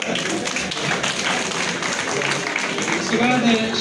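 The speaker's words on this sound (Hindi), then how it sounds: "जोरदार तालियां।" Applause from an audience at a college International Women's Day function. Clapping runs steadily throughout at moderate loudness, mixed with crowd murmur and a brief voice near the end.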